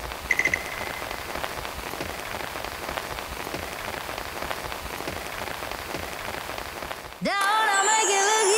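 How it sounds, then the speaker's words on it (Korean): Steady autumn rain pours down on a surface, a dense continuous patter that stays even for most of the stretch before an abrupt cut to a different sound near the end. "가을비가 주룩주룩 내리는 오후입니다"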